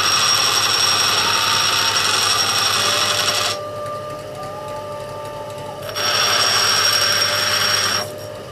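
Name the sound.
grinding a septarian stone on a grinding stone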